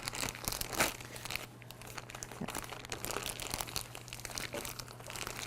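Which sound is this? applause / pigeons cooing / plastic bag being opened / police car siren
plastic bag being opened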